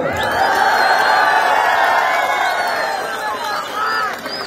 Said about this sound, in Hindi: एक बड़ी ताली तो बनती है ना